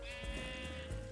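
Sheep bleat in a Minecraft survival world, a steady, near, sustained bleating over a low background rumble.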